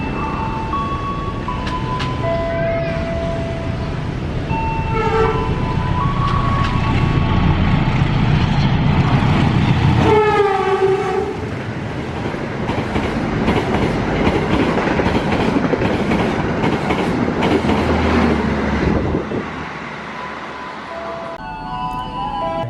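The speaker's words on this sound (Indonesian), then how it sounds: "Joro 1 melintas kereta api Argo Merbabu 23" Argo Merbabu 23 passenger train passing a level crossing in Indonesia, loud and close, a long continuous rumble with rhythmic wheel clatter, squealing tones and a horn, the roar fading away near the end.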